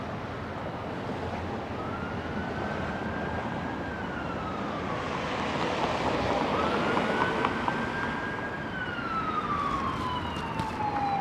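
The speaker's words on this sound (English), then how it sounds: "Can't escape sirens in New York City." Emergency sirens wail in slow rising and falling sweeps over steady, loud city traffic noise in Tribeca, New York City, continuing throughout.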